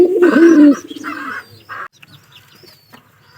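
Pigeons coo in low, rolling phrases, close by, followed by softer scattered bird sounds and quiet rustling.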